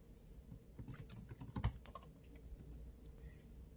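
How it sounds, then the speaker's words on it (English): Someone types a password on a Mac computer keyboard, a soft, close run of quick key taps with one slightly louder press near the middle. "Now it's going to ask you to put in your password. So let's go and type it in."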